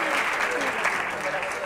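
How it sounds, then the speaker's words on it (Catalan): Audience on a televised school spelling quiz claps briefly, a moderate steady patter of many hands, with a voice audible over it. "Un aplaudiment,"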